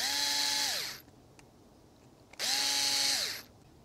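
Power drill driving screws into an RC car housing on a 1/16 E-Revo VXL, two loud close whirring bursts, each about a second long, separated by a quiet pause.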